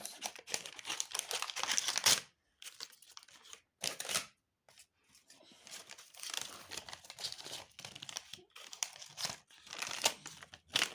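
Paper being crinkled and torn in bursts, rough ripping sounds up close, separated by brief silent pauses.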